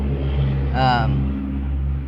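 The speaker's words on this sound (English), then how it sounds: "Son of a bitch, it's a big truck" A big truck drives past as a steady, loud, low engine rumble, with a brief whining tonal swell rising and fading near the middle.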